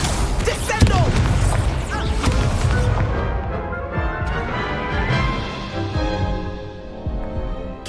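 A Confringo spell blast from the Hogwarts Legacy video game, a loud booming explosion with crashing debris that rings out and slowly fades over several seconds.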